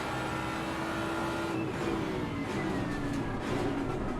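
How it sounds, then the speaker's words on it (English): A V8 GT3 race car engine in the Assetto Corsa Competizione racing game drones steadily at high revs, with a slight pitch sweep as it shifts through the run, loud and continuous with no talk. "I love the V8 from this"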